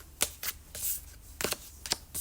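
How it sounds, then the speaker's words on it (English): Tarot cards are shuffled by hand during a pick-a-card reading, with a quiet, close sequence of crisp riffling flutters and soft slaps. "So let's just shuffle your cards and see what comes through for you."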